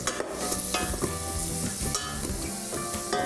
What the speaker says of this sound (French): OK, donc je vais mélanger.